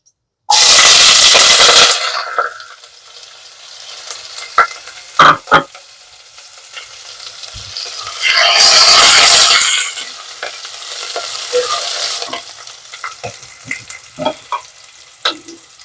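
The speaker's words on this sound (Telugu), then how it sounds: "ఆయిల్ వేడైందండి కొన్ని ఆవాలు కొంచెం జీలకర్ర వేస్తున్నాను పొడుగ్గా తరుక్కున్న ఉల్లిపాయలు" Mustard seeds, cumin, sliced onions and a green chilli hit hot oil for a Telugu tempering, sending up loud bursts of sizzling and frying at the start and again midway, with quieter crackling and stirring clicks in between.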